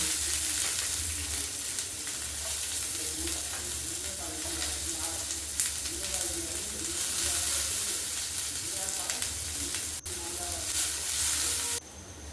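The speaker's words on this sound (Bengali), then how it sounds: "রসুনের মধ্যে পেঁয়াজটা দিয়ে দেবো সেটিকেও ভালো করে ভেজে নেব" Onion and garlic frying together in a pan, a steady close sizzle with scraping stirring strokes and some faint low background hum throughout.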